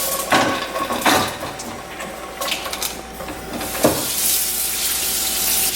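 Chopped onion sizzles in olive oil in a pan while spicy rigatoni is made; a steady hiss runs throughout, broken by a few sharp utensil clinks against the pan.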